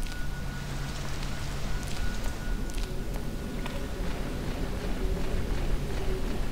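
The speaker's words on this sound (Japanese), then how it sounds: "ああ、雨か。" Rain falling in the horror video game Fatal Frame: Maiden of Black Water, a dense steady hiss of downpour with a faint tonal hum beneath, continuous and even, with no voices.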